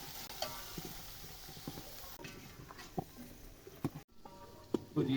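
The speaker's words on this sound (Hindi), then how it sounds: "अच्छी तरह से फ्राई करेंगे मटर और आलूओं को।" Peas and potatoes fry in a pan while being stirred, giving a soft sizzle with irregular scraping and clacking of the spoon, moderately close and fairly quiet.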